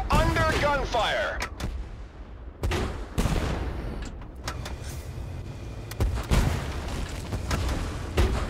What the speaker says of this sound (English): We are under gunfire.